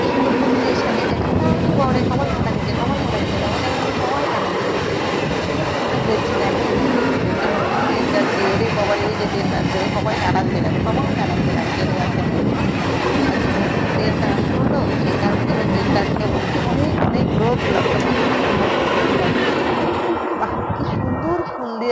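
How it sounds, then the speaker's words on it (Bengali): A new train approaches and rolls across the newly opened Nasipur rail bridge, a loud steady rumble and clatter lasting throughout, with voices of onlookers talking and calling over it. "এই তো ট্রেন আসছে দেখতে পাচ্ছ তোমরা ট্রেন আসছে"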